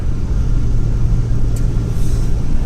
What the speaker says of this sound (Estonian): Liiklus on siin täitsa kobe.